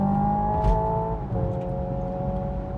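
Hyundai Ioniq 5 N electric car in sport mode with simulated automatic gear shifts, a steady synthetic engine-like drone that drops in pitch at a shift partway through, continuous and fairly loud without talk.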